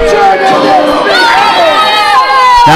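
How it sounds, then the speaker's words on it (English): A lively wrestling crowd at a pro match between Hannibal and Lanny Poffo reacts unhappily after the result, a loud, continuous roar of shouting and jeering voices with scattered whistles and cries rising over the arena din. "This crowd is very lively and they are not happy whatsoever that Hannibal has won this match."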